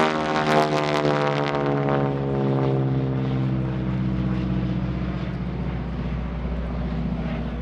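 A T-6 SNJ propeller airplane drones past loudly at an airshow, its engine pitch sliding downward as it moves away, with no voices.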